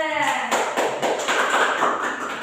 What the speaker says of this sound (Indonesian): Beri aplaus dulu buat kelompok 2